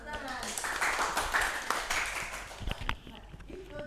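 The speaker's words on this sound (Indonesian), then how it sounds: "Selamat tepuk tangan" Classroom applause during a microteaching lesson, a short burst of clapping from a small group mixed with voices and chatter, fading out after about three seconds.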